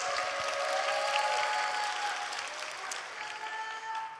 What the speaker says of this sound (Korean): 이런 아주 자연스러운 환호, 진실된 환호 너무 감사드립니다